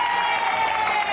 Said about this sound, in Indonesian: Tepuk tangan buat Pak Eka.